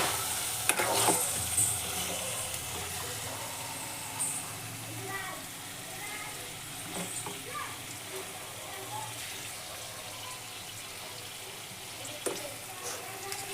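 Amaranth leaf and egg curry in a frying pan, with the oil separated, sizzles gently while being stirred, soft scraping and bubbling under a voice heard at times.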